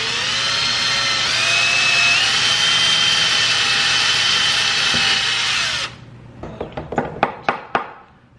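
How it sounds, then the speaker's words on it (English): A power drill whines loudly and continuously while boring a hole for a homemade fidget cube, then stops abruptly, followed by a few sharp knocks and taps. "Now I'm gonna drill a hole up to here"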